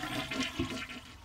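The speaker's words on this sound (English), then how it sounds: "flush the toilet to empty the tank" A household toilet flushes to empty its tank during a water supply valve replacement, a single close, steady rush of draining water lasting the whole moment with no voices.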